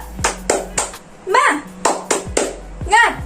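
A second-grade class does a rhythmic spirit clap, sharp group claps in short patterned bursts interleaved with children chanting and a teacher's voice.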